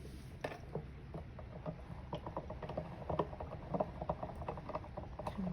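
A Big Shot embossing machine cranked by hand: a steady run of small, irregular mechanical clicks and ratcheting creaks from the gears and rollers, close and fairly quiet, with no talking.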